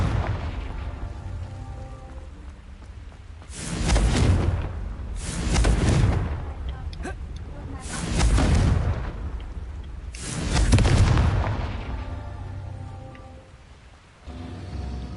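Repeated Confringo spell blasts in a video game: four separate booming explosions about two seconds apart, each swelling and decaying over a low, continuous ambient bed.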